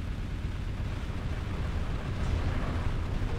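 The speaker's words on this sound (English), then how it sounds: "EMP barrage on him" An EMP barrage detonating in a sci-fi strategy game, heard as a sustained, dense rumbling blast that rolls on evenly for several seconds and swells slightly toward the end, with no voices.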